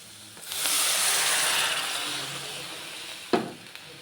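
Water pours into a hot pan and sets off a sudden, loud hiss that slowly fades, followed by a sharp knock of a utensil.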